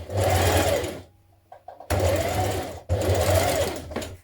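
A sewing machine stitches a dart on a Vogue 9311 spring dress, running in three close, loud bursts of rapid whirring separated by brief pauses with faint handling sounds.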